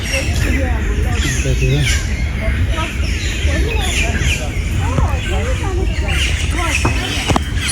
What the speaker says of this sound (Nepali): एकदमै धेरै आवाज आइरहेको छ है चराको